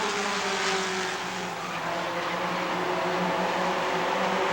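Race cars at Rockford Speedway powering away together on a green-flag restart out of turn four, a loud continuous multi-engine roar with layered droning tones that holds steady throughout.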